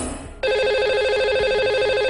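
A telephone rings to call the lucky caller on a TV show, starting abruptly after a short quiet moment and then sounding as a steady, loud electronic trilling ring.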